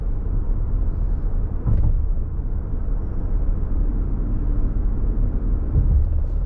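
Steady low cabin road and engine rumble inside a Toyota Grand Highlander speeding up onto a highway, continuous and fairly loud, with a couple of brief thumps from the road surface.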